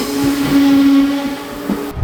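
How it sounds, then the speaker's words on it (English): A train of the Erlauftalbahn in Lower Austria pulls into a station, giving a steady mechanical rumble with a sustained squealing tone, nearby and fairly loud, with no voices. "the train in the other direction has just pulled into the station"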